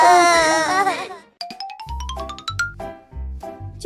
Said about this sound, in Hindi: मम्मी, रोने की आवाज तो बाहर से आ रही है।